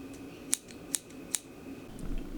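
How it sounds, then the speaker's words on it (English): Sewing scissors for fabric and thread snip three times in a steady rhythm, each cut a crisp close metallic click over quiet background, with a softer rustle near the end. "sewing scissors, which I use more for fabric cutting as well as cutting threads"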